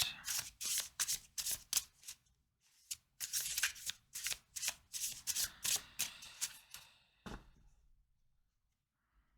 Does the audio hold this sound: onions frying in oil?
no